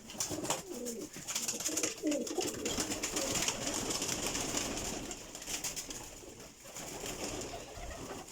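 Pigeons at a high-flying pigeon breeding loft coo in low, throaty bursts over a steady background hiss, the soft calls overlapping and continuing throughout.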